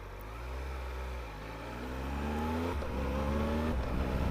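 A Triumph Tiger 1200 Alpine Special Edition motorcycle engine drones and revs, its pitch stepping down through several downshifts with quick auto-blipper throttle blips, heard at close range with no talking.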